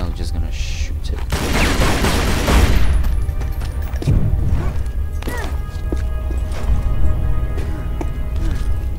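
Lara's pistols fire in Tomb Raider Legend, a loud flurry of shots clustered early, then sparser booming impacts over a steady game backdrop, with a voice talking at times.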